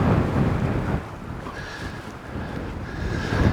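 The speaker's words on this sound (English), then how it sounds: "Now you may have picked up that it's quite windy today." Gusty wind on the Isle of Lewis buffets the microphone with a low, rumbling roar that swells, eases off, then builds again, with no one speaking.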